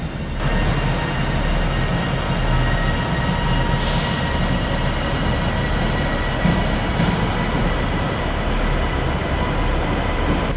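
A train rumbles steadily through a station at close range, a dense continuous roar of wheels and rails with a brief high squeal partway through.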